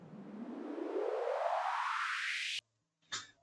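A white-noise riser made in Vital sweeps steadily upward through a phasing filter for about two and a half seconds, then cuts off sharply, followed by a short faint noisy hit.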